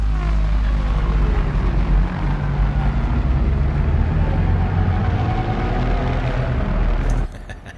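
Tempo-synced risers from the Heavyocity Dystopia library layered together into a loud, thick, roaring wash with gliding, pulsing tones, holding steady for about seven seconds before cutting off sharply near the end.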